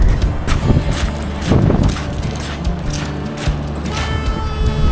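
Strong wind buffets the microphone in steady gusts, with rough rumbling and occasional flapping, no voices.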